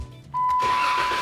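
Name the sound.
car engine running after oil adapter install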